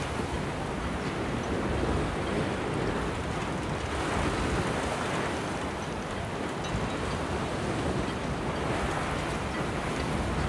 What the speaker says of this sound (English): You see that wave coming at you and that bow splash right there?